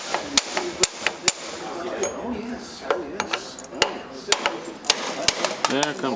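A hammer strikes repeatedly to drive needle bearings out of a Rolls-Royce Silver Cloud steering box, sharp metallic blows in an irregular rhythm, close and loud, with people talking in between.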